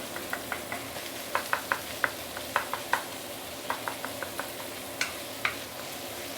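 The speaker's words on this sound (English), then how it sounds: "I also want to char the minced meat to give it some enhanced flavor" Minced pork sizzles softly in a pan for a potato stew while a spatula taps and scrapes the pan in an irregular run of sharp clicks, each standing out above a low, constant frying hiss.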